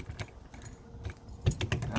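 A Sunseeker Funseeker motorhome door is unlocked with a short close jingle of keys, a couple of seconds of metallic rattling that swells toward the end.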